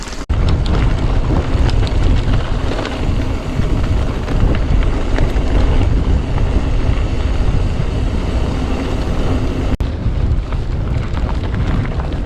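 Strong, gusty wind roars loud and steady across a mic on a Swiss Valais mountainside at Les Crosets during a mountain-bike ride, a dense broadband rush with no pauses and no voices.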